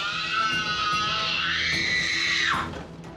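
A six-year-old child with ADHD lets out a long, loud, high-pitched scream at close range that bends downward at the end and trails off into room noise.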